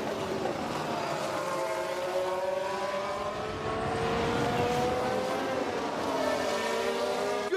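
Ferrari Formula 1 car at the 2022 Bahrain Grand Prix, its high-pitched engine whine rising and falling through gear shifts, steady and fairly loud over crowd ambience.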